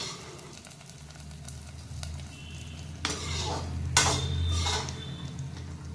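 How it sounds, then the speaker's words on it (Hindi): Hot tadka tempering poured into cooked khichdi in a pressure cooker sets off loud, crackling sizzles in two sharp surges, with faint utensil clinks and stirring around them. "इसमें हम लोग तड़का डाल रहे हैं।"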